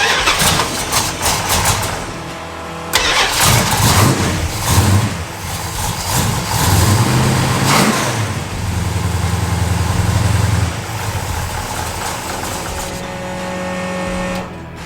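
A Prospector engine cranks in short bursts, catches and fires, then settles into a loud, steady run close by, rising and dipping in pitch before idling down near the end.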